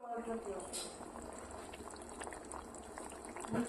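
Broccoli shukto simmers in a covered pot, giving a soft, steady bubbling hiss with faint lid rattles and kitchen clatter throughout.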